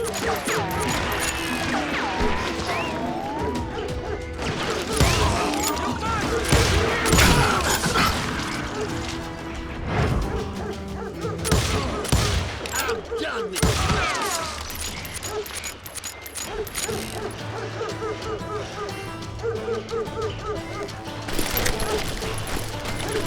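Gunfire in the Western shooter Call of Juarez: Gunslinger, with dense bursts of pistol and rifle shots, crashes and mechanical clatter layered under frequent shouted in-game voices and music, loud and continuous.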